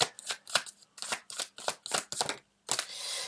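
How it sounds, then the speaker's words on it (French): Tarot cards being shuffled and drawn: a rapid series of crisp, close riffling bursts with brief pauses, ending in a longer sliding shuffle. "je vais sortir 3 cartes et après donc on sortira d'autres cartes supplémentaires"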